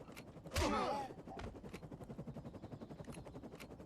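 A single loud, close gunshot bursts out in the video game Defiance 2050, then fades into a low, pulsing mechanical hum with no further shots.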